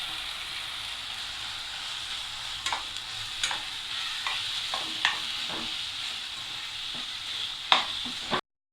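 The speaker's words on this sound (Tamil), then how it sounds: "அடுத்தது நம்ம தேங்காவை போட்டு நல்லா வதக்க போகிறோம்." Grated coconut being sautéed in oil in a pan for a Kerala-style vegetarian coconut dish, giving a steady close sizzle with scattered scraping stirs throughout and no talking.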